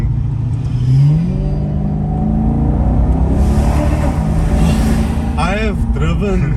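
A Maserati Quattroporte GTS engine hums and revs while driving, rising in pitch early and then holding a steady drone. Someone talks over it throughout.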